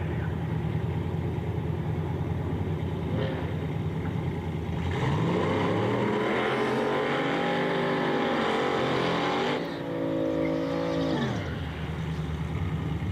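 A Ford wagon race car at a street drag event accelerates down the track, its engine rising steadily in pitch through the gears, loud and fairly close, with another engine rumbling in the background and no talk.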